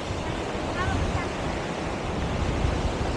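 Strong wind blows at Pagudpud beach, roughing the microphone with a steady close rush that has the surf mixed in, while people talk faintly underneath.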